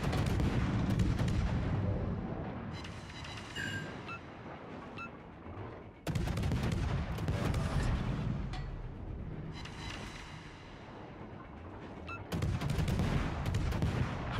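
Naval artillery salvos from a warship in World of Warships boom out in heavy, dense volleys with rumbling low-end blasts, sustained and loud across the whole stretch, with fresh bursts of firing arriving in waves.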